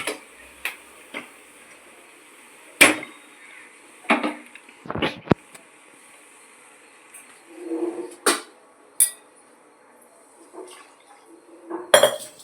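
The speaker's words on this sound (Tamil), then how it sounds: "சின்ன கடாயை வச்சு ரசத்துக்கு தாளிப்பு போட்டுப்போம்." Small kadai set down on the stove before tempering rasam in a home kitchen, sharp metallic clanks and clinks of pans and utensils scattered through the quiet, some close and ringing, others soft taps.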